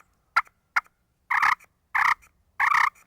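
A push-pull turkey call makes two short, sharp clucks, followed by three longer, fuller calls with brief pauses between, close up and isolated.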